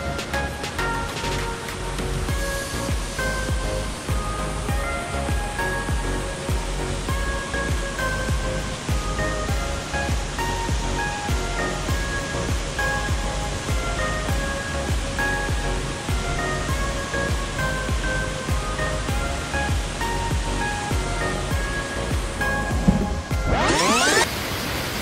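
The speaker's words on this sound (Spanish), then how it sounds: "Acá les muestro cómo se ve el agua de la cascada en verano." Continuous roar of water flowing at the El Torito waterfall in summer, a dense steady rushing wash that stays loud and close throughout, with no voices.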